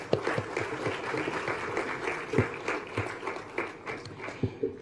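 Applause rises for the longest-serving member of parliament at an anti-corruption day event, a scattered room-filling clatter of hands with a few sharper claps standing out.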